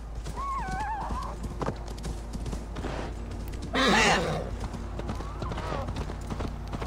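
Hooves clip-clop steadily while a horse in the video game Assassin's Creed Valhalla snorts and lets out a loud, shaky whinny midway, with soft murmuring voices nearby.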